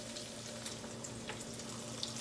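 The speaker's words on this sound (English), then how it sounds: "So I'm just frying 2 eggs" Steady sizzle and crackle of two eggs frying in a pan, a continuous hiss with small pops, fairly quiet and close, no voices.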